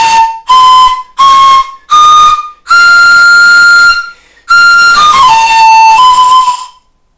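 Shrill, breathy replica Viking-age Jorvik panpipe notes played loud and close: four short separate toots, then longer sustained tones sliding down in pitch before fading.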